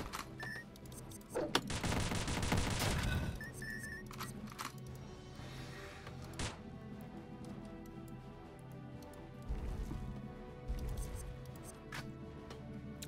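Rapid gunfire from a gun in the video game Dungreed comes as a dense burst of quick shots early on, followed by scattered lighter shots, clicks and game effects at moderate volume.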